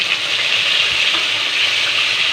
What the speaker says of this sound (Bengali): তারপর রসুন আমার ভাজা হয়ে গেছে লাল লাল করে, এবার আমি দিয়ে দিলাম পেঁয়াজ বাটা